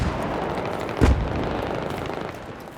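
A single grenade blast booms once about a third of the way through a Battlefield 5vs5 match on the Seine map, standing out over a steady wash of distant battlefield rumble and noise.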